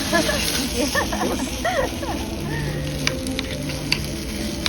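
A rice dish, a popular Chef Morimoto recipe, sizzles loudly straight off a hot stove with a steady crackling hiss while people talk nearby.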